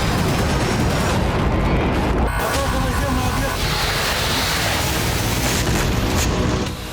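Heavy, continuous blasts and roaring rumble from missile strikes on Ukrainian cities, loud and sustained like nearby explosions, with a brief tonal whine in the middle.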